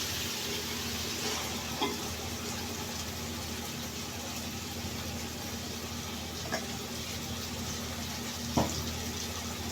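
Ground mint and green chili paste sautés with tomato and onion in a pan, giving a low, steady sizzle with a few soft stirring knocks.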